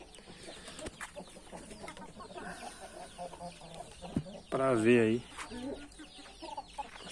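A hen clucks near the mic among other chickens, including a pretty Cartola-type hen, with a brief louder burst of calls midway over a steady farmyard background; someone speaks briefly.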